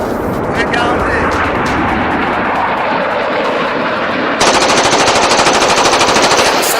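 Rapid machine-gun fire from a space combat video game raking an enemy ship's cockpit, loud and dense, continuous bursts that intensify near the end.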